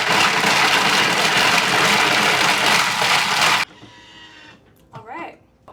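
Blender mixing a protein shake with ice at a non-dairy food factory, loud steady grinding roar for several seconds that cuts off abruptly, followed by quieter clatter and people talking.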